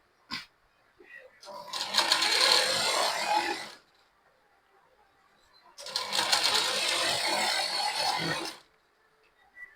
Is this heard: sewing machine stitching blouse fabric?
yes